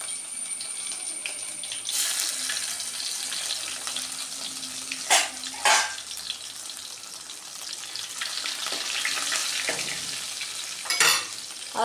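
Crushed ginger and garlic with dried red chilies frying in hot oil, a soft continuous sizzle with a few sharp bursts of louder spattering, no talking.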